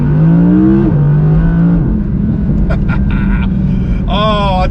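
An Audi R8 rear-wheel drive on Pirelli P Zero tyres revs hard while driving, its engine note climbing and shifting through gears in a loud, sustained roar, with a brief rising surge near the end.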